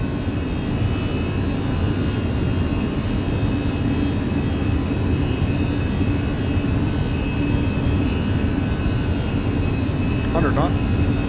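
Fenix A320 jet engines roar at takeoff power in a flight simulator, a steady broad rumbling whine holding constant throughout, with faint tonal hums.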